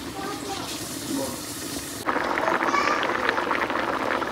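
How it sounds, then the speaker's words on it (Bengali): Taro simmers in a pot of boiling water, a soft bubbling and hiss that grows louder and busier partway through, with faint background noise. "এই যে কচুটা সিদ্ধ হোক, তারপরে এই কচু বাটা করবো"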